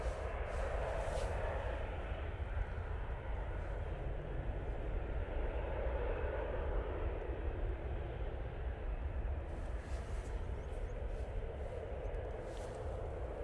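A TUI airliner lined up for departure at Manchester Airport, its engines giving a steady, distant broadband roar that holds evenly throughout with no talking.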